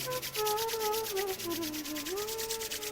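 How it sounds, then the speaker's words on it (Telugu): Hands rubbed together vigorously during an eye yoga exercise, making a steady, rhythmic brushing swish close to the microphone, with a sustained tonal sound like a soft voice or music running underneath. "చేతులు బాగా రుద్దాలి. ఇంకా రుద్దండి,"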